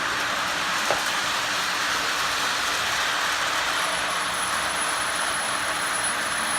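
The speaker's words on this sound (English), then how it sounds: "And I'm running an old model train, which is an old standard transformer." An old Lionel model train running on a standard transformer gives a steady, loud rumbling whir that holds evenly throughout with no pauses, and no voices are heard.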